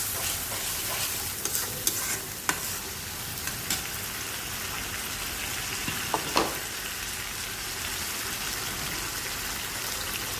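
Tomato and green chillies fry in a pan with beef cooking, giving a steady close sizzle with scattered spatula scrapes and stirring clicks, no voices.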